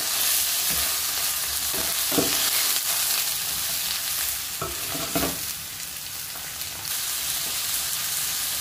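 Mushrooms sizzle steadily in a frying pan while a utensil stirs them, with scraping clicks at irregular moments over the continuous frying hiss; no voices.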